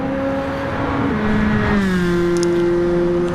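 Toyota Celica race car in a racing video game at Suzuka, Japan, its engine droning steadily with a rising and falling pitch as it accelerates and shifts, loud and continuous with no talking.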